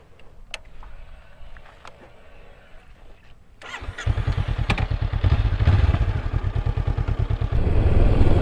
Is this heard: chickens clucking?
no